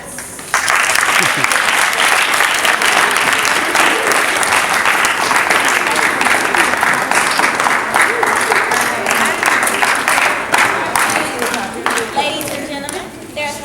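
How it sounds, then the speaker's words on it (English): A crowd gives a round of applause for guest poets at a youth poetry mentoring event, loud, dense and sustained clapping close by that carries on steadily for over ten seconds before thinning slightly at the end. "can we give a round of applause for our guests?"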